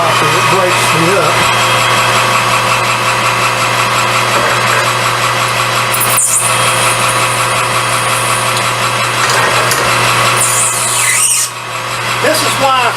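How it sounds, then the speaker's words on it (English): A lathe cutoff tool parting off a pipe gives a loud, continuous grinding whine with squealing bursts, steady for most of the stretch before easing slightly near the end. "This is why, right here is why I just use the cutoff tool."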